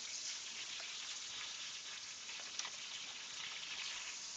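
Oil and liquid frying and boiling off in a pan during holiday cooking, a steady close hiss of fine sizzling crackle with no voices.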